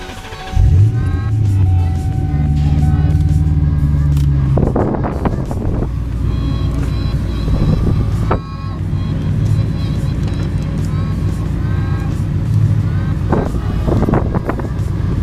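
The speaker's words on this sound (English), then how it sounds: "we're back in the Mustang, colder than ever." A Ford Mustang running, a steady loud engine drone with wind buffeting the microphone and a few knocks and clunks along the way.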